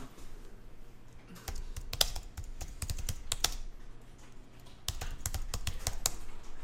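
Close typing on a computer keyboard, irregular clusters of key clicks with brief pauses and a few sharper, heavier strokes like the Enter key, alone in a quiet room.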